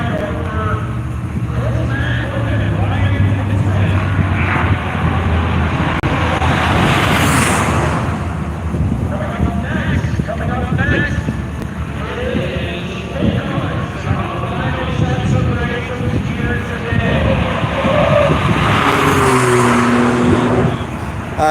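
A race car at Worldwide Technology Raceway, its engine roaring loud and constant with rising and falling revs as it passes, while people talk over the noise.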